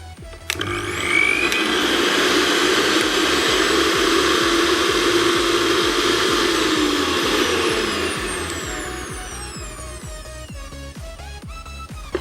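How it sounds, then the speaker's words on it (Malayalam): A household mixer grinder of about 500 to 750 watts runs on a UPS-based inverter, starting with a click, whirring loudly and steadily for several seconds, then winding down as the motor slows to a stop. "അടുത്തതായി നമ്മൾ വർക്ക് ചെയ്ത് നോക്കാൻ പോകുന്നത് മിക്സിയാണ്."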